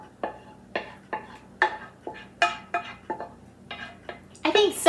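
Two dishes, cauliflower au gratin components, are stirred together in a pan, giving a series of distinct clinks and scrapes of utensil on cookware at a steady pace, close by and with no talk over them.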